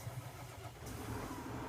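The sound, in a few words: vehicle engine sound in Farming Simulator 19 video game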